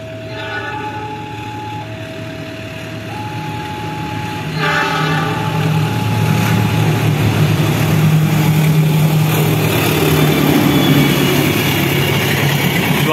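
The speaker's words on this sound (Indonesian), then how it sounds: "Ini Sancaka melintas langsung." Sancaka premium express train hauled by locomotive CC206-1336, passing straight through a station without stopping; a steady loud rumble and wheel noise build and hold, with horn-like tones early on.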